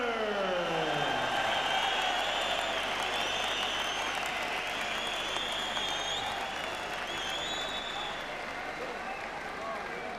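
A boxing arena crowd applauds and cheers a new super featherweight champion after a technical knockout, a dense roar of clapping and crowd noise throughout with a commentator talking over it and brief whistle-like tones early on.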